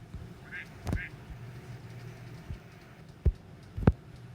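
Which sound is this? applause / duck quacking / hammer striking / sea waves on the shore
duck quacking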